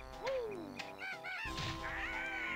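A bird enemy in the video game Banjo-Kazooie squawks and honks in short goose-like calls, loud and close, over game music with no talk.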